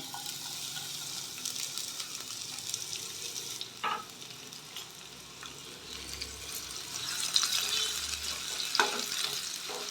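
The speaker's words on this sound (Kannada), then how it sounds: "ಇವಾಗ ಇದಕ್ಕೆ ಹೆಚ್ಚಿಟ್ಕೊಂಡಿರೋಂಥ ಈರುಳ್ಳಿನ ಹಾಕೋತಾ ಇದ್ದೀನಿ" Chopped onions fry in a few spoonfuls of hot oil, a steady broadband sizzle with occasional scrapes and clinks of stirring, fairly close and continuous throughout with no talking.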